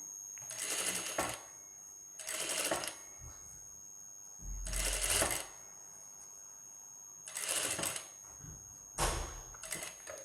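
A sewing machine stitches along a marked curve on a designer blouse in five short bursts of fast mechanical chatter, each about a second long and separated by quiet pauses, close and without talking.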